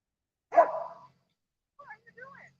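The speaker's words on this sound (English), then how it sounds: "Dogs." A dog gives one sharp bark at a distance outdoors, followed by a few faint, quieter yips or whimpers.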